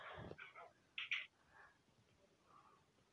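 Angry dogs from the Minecraft video game give a few short, faint barks and growls in a quick cluster, then a quieter whimpering sound, with no talk over them.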